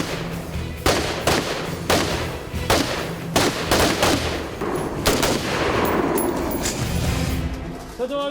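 A naval anti-piracy unit fires guns in shipboard shooting drills: a series of loud, sharp reports at roughly regular intervals, echoing outdoors, followed by a longer rumbling volley and fading noise.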